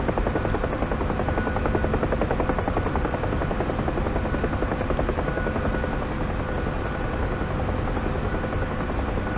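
Loud, continuous rotor thump and turbine whine of a UH-1 Huey helicopter in the DCS flight simulator, a dense steady chopping drone holding throughout with no voices.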